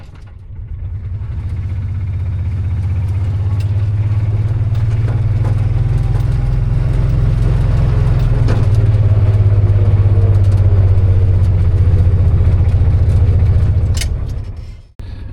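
A blue truck's engine runs close by in a steady, loud low rumble that holds evenly for about fourteen seconds before cutting off abruptly with a clunk.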